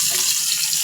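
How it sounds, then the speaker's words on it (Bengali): Climbing perch (koi) fish frying in hot oil, a steady close hiss and sizzle that carries on evenly through the short moment. "আমি এখানে কই মাছ ভেজে নেব"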